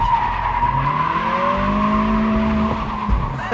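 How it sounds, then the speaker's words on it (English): A 2023 Acura Integra does a burnout, its tires giving a loud, sustained squeal that rises in pitch over a steady engine drone before cutting off, with no talk. "That was a burnout."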